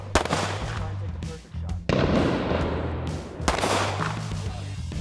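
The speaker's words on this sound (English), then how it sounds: "Just draw, present, fire a single shot." A Savage Stance XR concealed-carry pistol fires at an outdoor range, with several loud, sharp reports ringing out close by amid other range noise.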